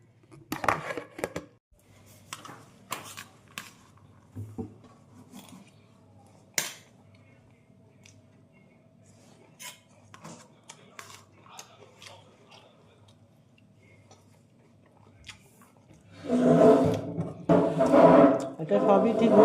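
A home lunch of chilli chicken is eaten with faint clinks of cutlery on a plate and soft chewing, scattered and quiet. Voices and louder talk rise near the end.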